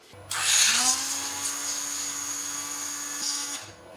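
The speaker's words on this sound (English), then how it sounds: "I love the Dremel tool" Dremel rotary tool grinding a V-groove into a crack in an engine casting, a steady high-pitched whine that starts abruptly, holds for about three seconds and then cuts off, loud and close.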